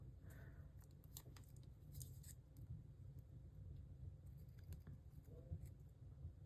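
Scissors cutting paper while making small handmade journal booklets, a few quick crisp snips scattered over a quiet background, close and faint.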